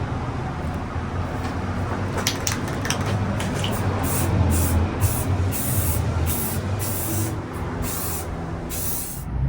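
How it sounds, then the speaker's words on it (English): Gray primer sprays onto an industrial-style bench grinder pedestal in a loud, steady close-up hiss, with a few short bursts of the nozzle near the start before the spray runs on continuously. "The second step in the finishing is a coat of gray primer."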